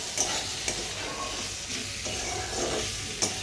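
Okra being stirred with spices in hot oil makes a close, continuous sizzle and hiss, with a few sharp scraping knocks from the stirring spoon against the pan.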